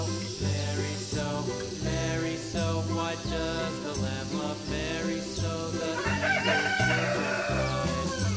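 A rooster crows faintly at a distance in a Vietnamese home setting, its call rising late beneath steady background music that carries throughout.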